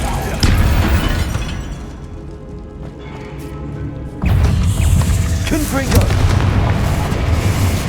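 A Confringo fire spell blast in Hogwarts Legacy, a loud booming explosion that swells sharply about halfway through and rumbles on heavily to the end, alone without talk.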